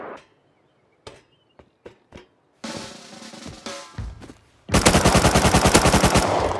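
Gunfire from the video game Rust: several sharp single shots with gaps between them, then a longer string of shots, ending in a loud, rapid automatic burst.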